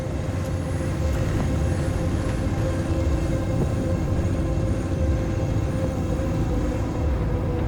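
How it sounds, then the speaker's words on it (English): A steady, heavy rumble of a train rolling by in the video game Cyberpunk 2077, low and continuous with a faint metallic hum, unchanging throughout. "Warning, train inbound. Please stay back."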